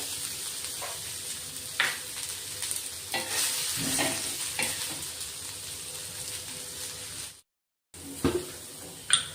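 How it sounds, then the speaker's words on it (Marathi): Long-sliced onions fry in oil for a spicy village-style mutton curry, with a steady close sizzle and scattered stirring scrapes and clinks, briefly cut to silence near the end. "तेल टाकल्याने कांदे पटकन भाजले जातात"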